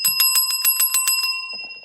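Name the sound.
bell being hit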